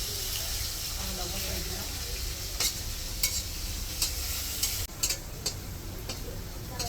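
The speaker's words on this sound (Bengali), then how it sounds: "আলু ভাজছি।" Steady hiss of potatoes frying in hot oil, with a few soft clinks of a utensil against the pan.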